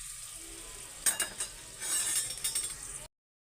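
Onions and whole biryani spices sizzle as they fry in a pot for chicken dum biryani, with several scraping stirs and light metallic clinks of a spoon, fairly quiet, ending abruptly.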